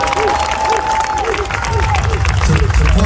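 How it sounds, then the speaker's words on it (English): A crowd at Rucker Park applauds for Asap Ferg, clapping and cheering mixed with crowd chatter and a voice over the top, close and loud through the whole stretch. "let's give Asap Ferg a round of applause"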